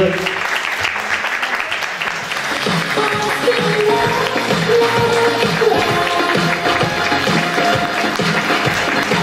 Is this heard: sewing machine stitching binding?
no